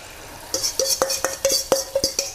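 Egg mixture meets hot frying oil for a Thai cha-om omelette, giving a series of sharp crackling bursts and spatters at a steady, quickening rhythm, close and fairly loud with no talking.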